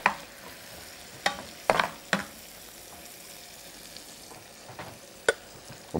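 Calamari cooking with onions in a pan, a soft, low sizzle in the background punctuated by a few sharp clacks of a utensil stirring against the pan.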